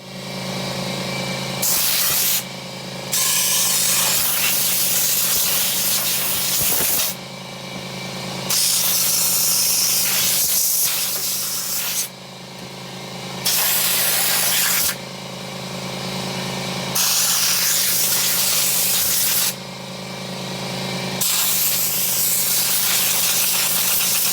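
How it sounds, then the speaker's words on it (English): Compressed air blasting musical instrument parts clean comes in loud, long hissing bursts, repeated several times with short pauses between, close and harsh over a low steady background hum. "I'll compress these out, dry them off real good, compress them out"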